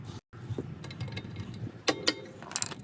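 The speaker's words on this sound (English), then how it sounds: "I'm gonna use an impact screwdriver." Hammer tapping an impact screwdriver to loosen Phillips set screws on a Hyundai Santa Fe XL rear brake rotor, a few sharp close metallic knocks and clicks over low mechanical rattling.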